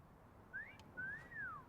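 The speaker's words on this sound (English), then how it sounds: "I've had that wolf whistle" A wolf whistle, one short rising note followed by a longer rise-and-fall sweep, clear and fairly close against a quiet background.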